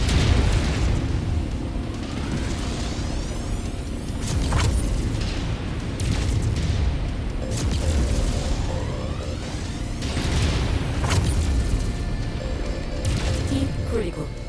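Incoming missile explosions pound a mech in the video game Mechwarrior 5, repeated crashing bursts every few seconds over continuous loud combat rumble, with game voices calling out now and then.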